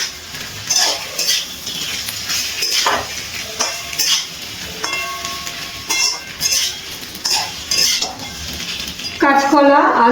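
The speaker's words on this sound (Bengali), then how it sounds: "খুব ভালো করে নাড়াচাড়া করে নিচ্ছি মশলার সাথে।" Fried vegetables (sweet potato, flat beans, green banana, papaya) being stirred with spices in a pan for Bengali shukto, with repeated metal utensil scrapes and clinks against the pan, fairly loud and close, with some background noise.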